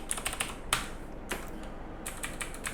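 Keys tapped on a computer keyboard while working in an Excel spreadsheet, a close, crisp flurry of clicks with brief pauses and a few heavier strokes, no voices.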